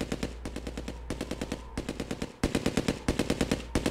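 Rapid machine-gun bursts from the Command & Conquer: Red Alert video game, repeated rattling volleys separated by short gaps, loud and continuous with no voices over them.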